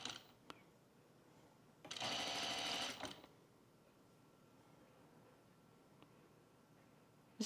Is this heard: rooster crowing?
no